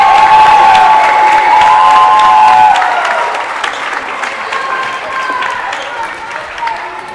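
A gym crowd at a high school basketball game claps and cheers steadily for a player, the applause swelling early then easing while a commentator talks over it and a whistle-like tone rings at first.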